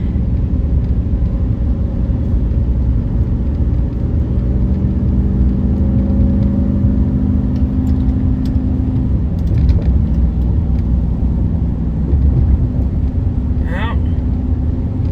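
A car on a long road trip home to Alabama, heard from inside as a steady, loud low engine and road rumble that runs unbroken throughout, with a faint brief chirp near the end.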